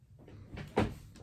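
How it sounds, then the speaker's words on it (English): A cupboard-style door is knocked and shifted by a pet cat, giving a soft rattle followed by one louder wooden thud, close and brief. "She is playing with the door."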